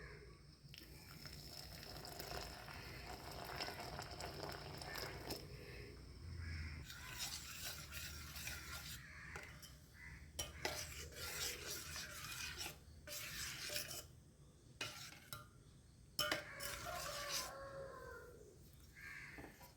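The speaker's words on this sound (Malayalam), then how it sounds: "ഇനി വേണ്ടത് ഉരുക്കി വെച്ച ശർക്കര ചൂടോടുകൂടി തന്നെ റവയിലേക്ക് ചേർക്കാം" Hot melted jaggery is poured into semolina and stirred in for soft unniyappam batter, giving intermittent wet scraping and rubbing bursts with splashy pours, close and moderately loud, with no talking.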